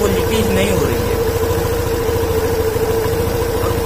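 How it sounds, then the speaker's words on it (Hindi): TVS Jupiter scooter engine idling after a fuel pipe replacement, a steady, close, even putter throughout while someone talks over it. "मैंने गाड़ी का इंजन जो है वो चालू कर दिया है"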